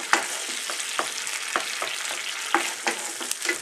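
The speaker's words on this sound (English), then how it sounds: "I like the sound of cooking and the smell of cooking." Steady crackling sizzle of chicken biryani ingredients frying in a hot pan, with occasional sharper pops and the scrape of stirring, close and continuous with no talking.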